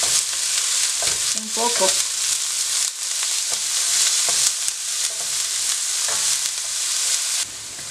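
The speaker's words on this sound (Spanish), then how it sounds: "Ahora ya le vamos a poner la cebolla. Dejamos que se acitrone" Chopped onion sizzling in hot oil in a pan for Mexican chiles en nogada, a steady loud frying hiss throughout with a few stirring scrapes and a brief spoken phrase.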